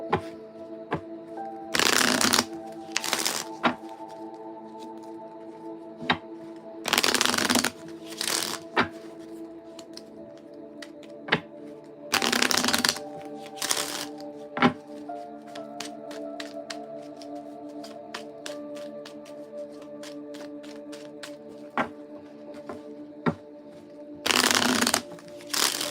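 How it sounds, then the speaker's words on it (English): Chakra love cards shuffled in several bursts of brisk riffling, close and crisp, separated by pauses over a low steady hum. "I got to give this one a good shuffle."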